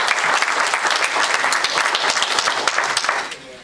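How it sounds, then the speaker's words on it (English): Audience applause at a political campaign kick-off event, a loud, dense burst of clapping from a crowd in a room that holds steady, then tapers off at the end. "A nice round of applause for Bob."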